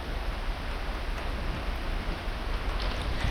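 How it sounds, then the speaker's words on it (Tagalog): Rain falls at a seaside campsite in Mauban, Quezon, a steady dense hiss of drops over the whole stretch with no voices, continuous and fairly close. "Patila lang kami ng ulan."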